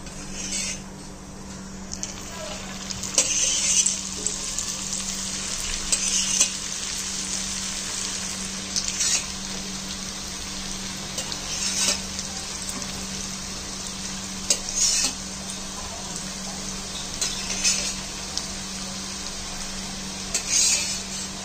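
Chakli spirals deep-fry in hot oil with a steady, close hiss and sizzle, broken every few seconds by sharper bursts of crackling and light stirring clatter, with no voices.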